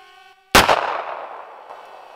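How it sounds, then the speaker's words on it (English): A single firearm shot at a target cracks sharply and loud, then a reverberant tail fades outdoors, preceded by a faint steady tone. "All right, let's shoot our first target."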